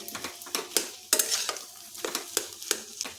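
A spoon stirs and mashes fried potatoes with salt in a pan as filling for methi aloo paratha, giving close, rhythmic scraping strokes over a light sizzle, about three per second.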